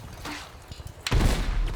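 A gun firing in Battlefield 6, a few faint shots at first followed by a loud booming burst that rumbles on to the end.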